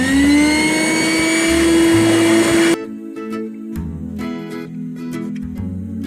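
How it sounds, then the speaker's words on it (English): A loud vacuum cleaner whines steadily while cleaning the inside of a car, then the motor sound drops abruptly partway through and a lower, rougher suction hum continues. "I'm gonna finish vacuuming this part,"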